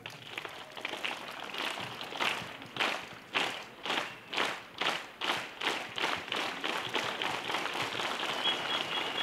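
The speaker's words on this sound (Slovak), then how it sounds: "zaslať takto symbolicky na diaľku Ukrajincom ale špeciálne týmto medikom ten náš potlesk, ktorý sme si natrénovali" A live audience claps in unison as a rehearsed tribute to Ukrainian medics, loud rhythmic bursts of many hands keeping a steady beat, then breaking into looser, continuous applause.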